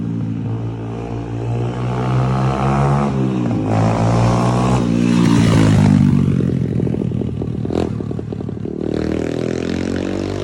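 A 2023 Evo 150 150cc dirt bike fitted with a 24mm Nibbi racing carburetor and 17-tooth front sprocket, its exhaust loud and close, revving up and down in rising and falling sweeps with a brief sharp blip near the end.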